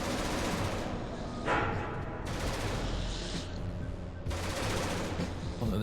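Turrets in Genesis Alpha One firing at aliens, a dense rattling barrage of rapid automatic gunfire in bursts, fairly loud, with brief gaps between volleys.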